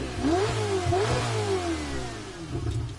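A Ferrari engine in Gran Turismo 7 revs hard, rising and falling through several gear-like sweeps over a steady deep rumble, loud and close with no talking.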